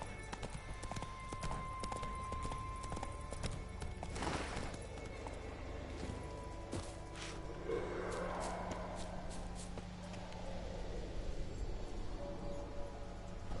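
A horse in The Witcher 3 canters along a road on Skellige with a quiet, steady run of hoofbeats, plus a brief snort or whinny partway through over soft ambient game sound.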